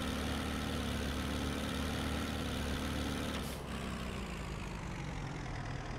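A tractor engine in Farming Simulator 17 drones steadily while driving through deep snow, a continuous low idle-like rumble with a brief whoosh midway and no talking.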